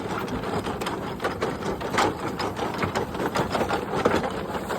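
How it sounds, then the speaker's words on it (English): A horse-driven cotton gin running at a threshers reunion, giving a busy mechanical clatter of rapid, irregular rattles and knocks at moderate loudness, with no talking. "This is running a cotton gin."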